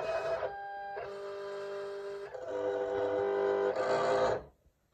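A Silhouette cutting machine working on a printed sheet gives a steady mechanical whir, shifting pitch in a few distinct segments as the blade carriage moves, close and clear before stopping.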